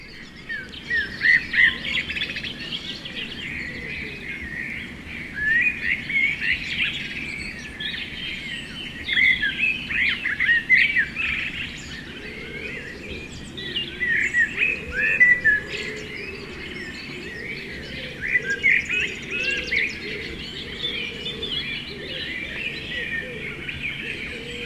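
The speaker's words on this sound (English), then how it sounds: "the dawn chorus begins. It's a chorus still of resident birds" A dawn chorus of resident woodland birds, with several birds singing and chirping at once in steady overlapping bursts over a faint background hum.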